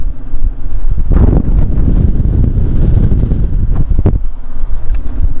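Wind roars into the cabin of a Corvette driven without its hood, loud and continuous rushing buffeting with engine and road rumble underneath for the whole stretch.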